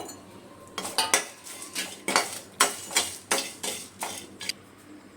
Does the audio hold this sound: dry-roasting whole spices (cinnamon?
yes